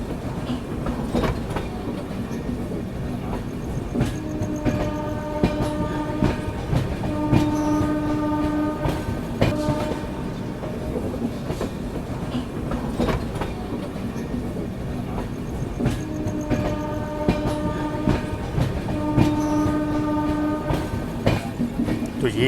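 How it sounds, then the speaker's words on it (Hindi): Subedarganj Dehradun Express passenger train running out of a junction toward Moradabad, a loud continuous rumble and rattle of the carriages heard from on board, with recurring horn blasts over the noise. "हमारी ट्रेन अब यहाँ से निकल चुकी है मुरादाबाद की तरफ"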